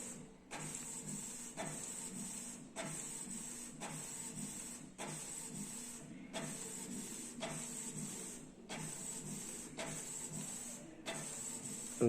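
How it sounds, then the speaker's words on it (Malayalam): A Canon Pixma G2012 inkjet printer runs a print job, its carriage whirring in steady repeated passes separated by short pauses, with a constant high whine beneath and no voices. "ഇപ്പം തന്നെ സ്പോട്ടിൽ സ്റ്റാർട്ടായി പ്രവർത്തനം ആരംഭിച്ചു"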